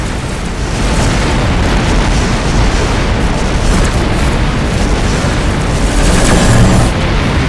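Missile explosions in the space combat game Rebel Galaxy, a dense, continuous rumbling roar of blasts that stays loud and sustained throughout without clear gaps.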